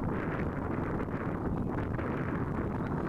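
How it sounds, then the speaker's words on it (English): Steady wind buffets an outdoor microphone, a dense continuous low roar with gusty swells throughout and no voices. "The wind is blowing a bit"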